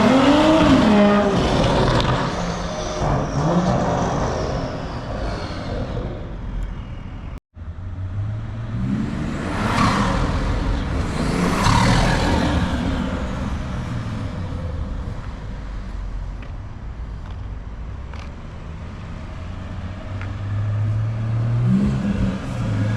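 BMW M340i car driving, the engine accelerating hard through rising revs with gear changes and a brief cut, then surging again, loud and close, with no talk.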